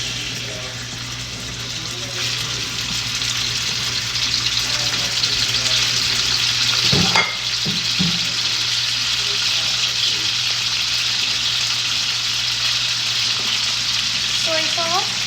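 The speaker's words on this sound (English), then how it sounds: "put this chicken in this cast iron pot with olive oil" Chicken hits hot olive oil in a cast iron pot and keeps up a loud, steady sizzle, with a brief clatter midway and some low voices beneath.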